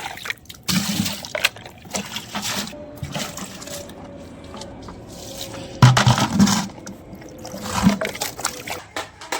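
Water splashes and trickles while a plastic bucket is rinsed clean, with irregular pouring and sloshing bursts and a few louder knocks against the bucket.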